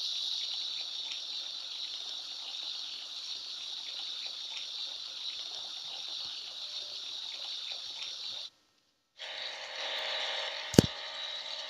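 Water sprays in a steady hiss while a car is washed in a kids' car-building video game, pausing briefly for a moment of silence, then resuming more strongly, with a sharp tap near the end.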